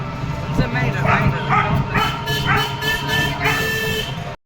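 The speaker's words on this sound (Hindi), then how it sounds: "कुत्ते भौंक रहे हैं" Several dogs bark repeatedly in a village at night, loud bursts recurring every half second or so over a steady background murmur, with voices faintly present.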